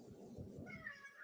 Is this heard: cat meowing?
yes